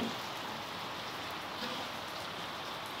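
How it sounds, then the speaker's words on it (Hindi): Heavy rain pours steadily with a dense, continuous hiss, loud and close, with no voices. "बच्चे खेलते खेलते बारिश हो गई है बहुत तेज"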